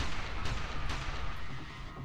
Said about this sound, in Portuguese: O Koji grita e puxa o gatilho de novo e de novo.